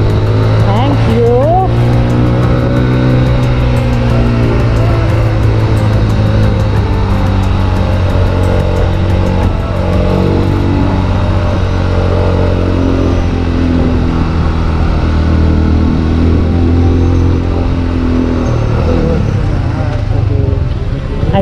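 A car driving along a village road while overtaking other traffic, its engine a steady, loud drone under road and wind noise for the whole stretch, with voices partly heard over it.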